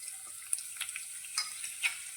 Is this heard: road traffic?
no